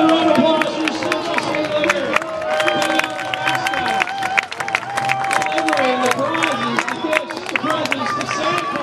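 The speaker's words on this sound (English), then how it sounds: "ladies and gentlemen. Round of applause." A stadium crowd at a minor-league baseball game cheers and applauds after a mascot race, loud and continuous, with an announcer's voice and crowd babble mixed in.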